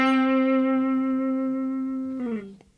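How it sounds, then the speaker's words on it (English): A single sustained electric guitar note is played with gentle vibrato. It rings clear and rich for about two seconds, then bends and cuts off abruptly. "here is the same note with some vibrato"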